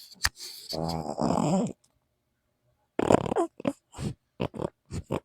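A dog close to the microphone makes snorting, grunting noises in short nasal bursts and a longer throaty rumble, separated by silent gaps.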